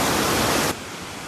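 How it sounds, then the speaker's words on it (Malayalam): A forest waterfall near rubber plantations roars as a loud, dense wash of falling water, then abruptly drops to a quieter, more distant rush. "ഇതാണ് നമ്മുടെ ഫസ്റ്റ് തട്ടിലെ പ്രധാന വെള്ളച്ചാട്ടം"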